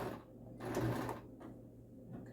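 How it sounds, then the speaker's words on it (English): Sewing machine back stitching a fabric face cover with neck shield, giving short faint bursts of motor hum and stitching separated by brief pauses. "Back stitch a couple, come forward a couple."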